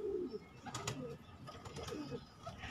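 A pet pigeon coos softly in a low, burbling voice, with faint chirps and light rustling over a steady background hiss.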